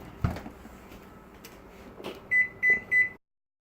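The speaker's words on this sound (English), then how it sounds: "Timer just went off." Three evenly spaced loud electronic beeps from an oven timer ring out in a kitchen after some quiet clatter, then stop abruptly into silence.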